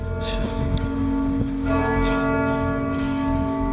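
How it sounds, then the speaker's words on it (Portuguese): A church bell rings steadily at a moderate distance, its sustained tolling tones layered and continuous over a low background hum, with no voices. "o sino da igreja toca para dizer que um dos fiéis havia falecido"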